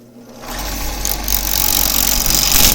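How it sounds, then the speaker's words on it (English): A bowl gouge scrapes around a green wood bowl spinning on a lathe, making a steady, loud, broadband rasping whir over the motor hum that builds slightly and holds throughout. "You can actually scrape all the way around"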